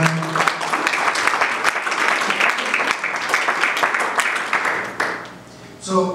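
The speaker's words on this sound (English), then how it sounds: "Let's give the Lord a hand clap tonight if we can." A church congregation claps in applause at a Wednesday evening service, a sustained patter of many hands with some sharp individual claps, fading near the end as a voice begins speaking.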